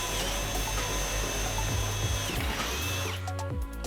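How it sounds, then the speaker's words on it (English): A plunge router fitted with a 3/4-inch bit cuts a half-inch-deep groove in plywood with a loud, steady whine that shifts pitch near the end and then spins down. "I am using my plunge router with a 3/4 inch bit to make a 1/2 inch deep groove"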